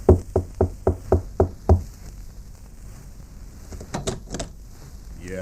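Insistent knocking on a door in a homicide detective story, a rapid run of seven loud, close raps in the first two seconds, then quieter room noise with a few faint clicks and rustles.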